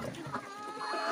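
A large, plump meat-breed rooster clucks in a short, close burst of throaty low calls, with faint background noise and no talking.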